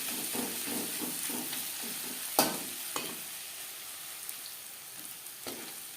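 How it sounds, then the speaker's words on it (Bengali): Five finely chopped onions fry in oil for egg biryani, giving a steady close sizzle with soft stirring scrapes and one sharper utensil clank. "পেঁয়াজ লালচে করে ভেজে নেব।"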